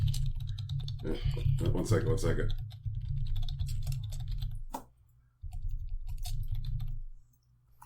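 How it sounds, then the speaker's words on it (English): Rapid computer keyboard typing clatters close by through most of the moment, running under people talking in an office, with a short pause before the keystrokes resume. "Brian's typing a bullet pointed news plot?"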